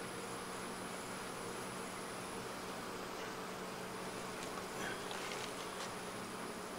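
Honey bees buzz steadily at an open hive where they are capping the middle comb, a dense continuous drone, close and unbroken, with no voices.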